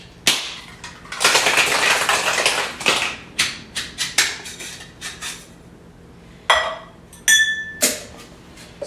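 A cocktail shaker of hibiscus margarita ingredients is shaken hard, ice rattling and clinking in loud bursts, a long churning run followed by several shorter, sharper shakes and clinks.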